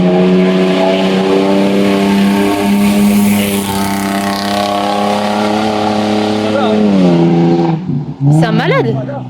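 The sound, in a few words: loud vehicle speeding past on the road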